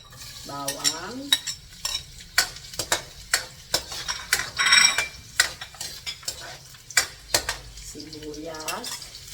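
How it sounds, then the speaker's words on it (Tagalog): Chopped garlic sizzles in hot oil in a pan for pork binagoongan while a utensil repeatedly scrapes and clinks against the metal, sharp stirring strokes in an irregular rhythm, with someone speaking briefly. "Okay, mainit na po ang mantika. Lalagay na natin ang ating bawang."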